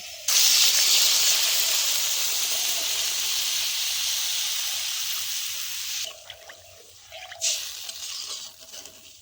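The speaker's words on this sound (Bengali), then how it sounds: "এখন এর মধ্যে দিয়ে দিচ্ছি জল" Water poured into a hot pan of rice flour for neem-flower shukto sets off a loud, steady hiss of steam and sizzling that eases after about six seconds, then flares briefly again.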